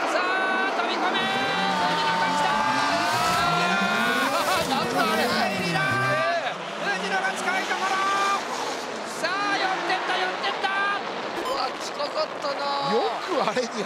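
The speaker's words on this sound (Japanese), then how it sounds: "さあ GTR がどうくる。 しかし藤野も負けてはいないぞ" Drift cars, including a Nissan GT-R, race at the 2016 D1GP round 6 at Ebisu. Their revving engines rise and fall with squealing tones, steady and loud under excited commentary and crowd noise.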